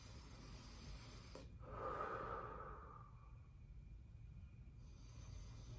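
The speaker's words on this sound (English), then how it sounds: "take those deep breaths through open mouth" A patient draws a deep breath in and out through an open mouth during a chest exam, a soft airy rush that swells and fades once over a couple of seconds, faint and close, in an otherwise quiet room.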